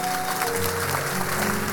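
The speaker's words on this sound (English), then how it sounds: "He deserves a round of applause." A church congregation applauds, a dense, steady clatter of many hands filling the room for a couple of seconds with no one speaking.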